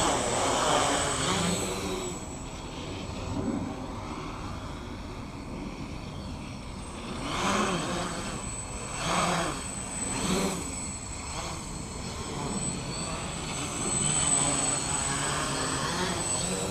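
A Spicer 450 quadcopter flies in agility mode without self-leveling, its propellers buzzing continuously with swelling and dipping surges as the throttle changes, heard from a moderate distance.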